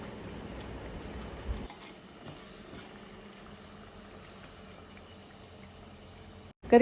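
Chattambode lentil fritters in hot oil give a soft, low bubbling sizzle. It drops quieter partway through as they come out of the oil, with a brief clunk at the very end.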